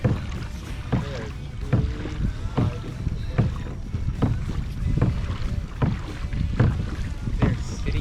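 Kayak paddles dip and splash in rhythmic, evenly spaced strokes through very shallow water in Biscayne Bay, with wind buffeting the microphone throughout.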